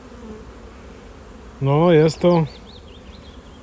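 Honeybees buzz steadily around a hive as young bees make their orientation flight, with someone briefly speaking over the close, continuous hum.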